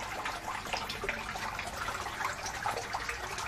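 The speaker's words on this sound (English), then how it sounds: "That particular water fountain is just to provide some aeration in the system." A backyard aquaponics water fountain splashes steadily to aerate the system, producing a continuous, fairly close wash of falling water with no pauses and no voices.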